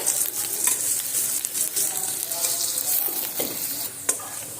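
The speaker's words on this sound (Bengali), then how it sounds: "পেঁয়াজটা আমি দিয়ে একটু লালচে রং ধরিয়ে ভেজে নেব" Chopped onion frying in oil, a loud close bright sizzle that holds steady while a spoon stirs through it, with occasional scrapes and no talking.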